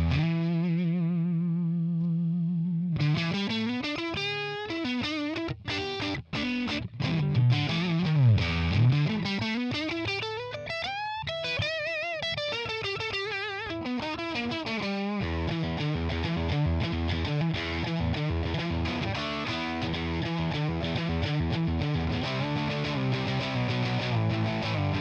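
An electric guitar, a Stratocaster, played through a Tonex ONE boutique amp model gives a thick, round, distorted tone: a held chord rings first, then busy lead runs and bends, then steady strummed chords, loud and alone with no talk.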